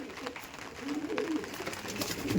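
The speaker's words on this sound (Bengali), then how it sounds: "এই যে ছিল টেডি পায়রা" A Teddy pigeon gives soft, low cooing calls close by, a few brief murmured phrases over a quiet background.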